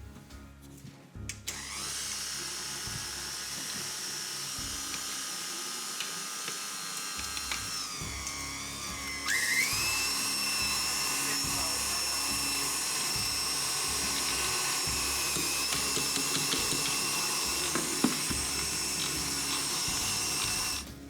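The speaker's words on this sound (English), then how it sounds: "Minces on, we've got the larger holes. Put some of our pork in." An electric meat mincer fitted with a coarse, large-holed plate grinds pork for sausage rolls, starting up after a brief pause into a loud, steady whining motor drone that shifts pitch slightly as the meat feeds through, with no voices.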